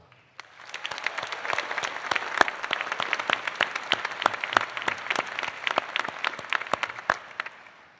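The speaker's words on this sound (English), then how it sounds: "let's give a huge applause for the faculty and staff for giving their all to you" A large crowd at a DePaul University commencement ceremony applauds the faculty and staff, with dense, even clapping rising quickly and holding steady for about eight seconds, heard from within the hall.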